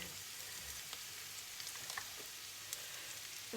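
Pepper tossed into a pan with a little more oil added, giving a steady, soft frying sizzle that crackles evenly throughout with no talking.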